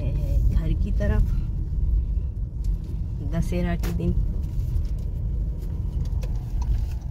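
A new Skoda Kushaq Monte Carlo drives home, its steady engine and road rumble continuous beneath people talking throughout.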